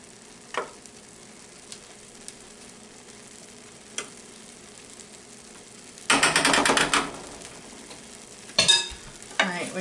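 A spoon scrapes and stirs pineapple filling in a pot on the stove, first a few faint taps, then two loud bursts of rapid, gritty stirring up close.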